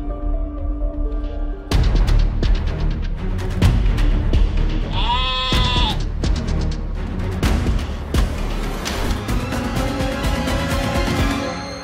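A sheep held by a girl on a children's television studio show bleats loudly and close by. Several wavering bleats cut through steady studio noise and background sounds.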